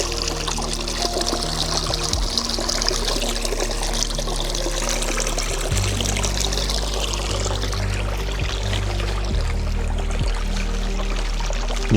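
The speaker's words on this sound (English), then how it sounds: "Look at that sound of water." Water flows and trickles steadily, a close, continuous pouring and babbling with no voices over it.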